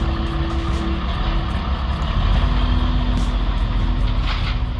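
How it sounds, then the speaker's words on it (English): A 1963 Chevrolet Corvette with a 340-horsepower engine pulling out of a garage, its low, steady engine rumble close by and continuous, with a faint shift in tone midway and no voices. "Dad's car's leaving the garage"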